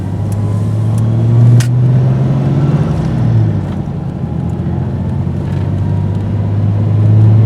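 A loud 1996 truck engine roars steadily nearby after a new fan clutch installation, its pitch rising and falling as it revs, with no talking.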